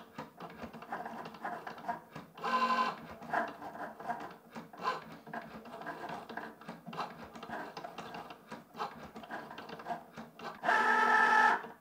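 A Cricut Joy Xtra cutting machine draws on a greeting card, its pen carriage buzzing and whirring in steady back-and-forth passes with brief louder motor surges, close and alone.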